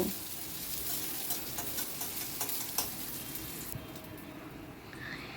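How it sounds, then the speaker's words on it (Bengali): Chopped onion goes into hot oil in a pan and is stirred, giving a steady sizzle with light scraping and ticking taps of a spoon that eases off near the end. "পেঁয়াজ কুচিটা দিয়ে একটু নাড়াচাড়া করে নেব"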